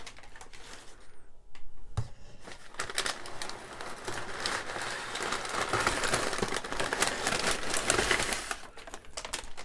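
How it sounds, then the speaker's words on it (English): Packing paper inside a comic book mystery box being handled, producing close, steady crinkling and rustling with sharp crackles and a soft thump near the start, sustained for several seconds with no voices. "Some paper."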